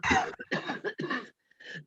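A run of harsh, closely spaced coughs, loud and near, with brief gaps between bursts and a final cough after a short pause.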